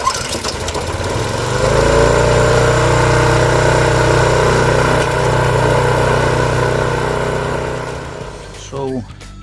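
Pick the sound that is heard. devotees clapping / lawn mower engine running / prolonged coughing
lawn mower engine running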